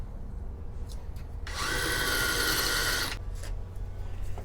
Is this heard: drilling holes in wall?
yes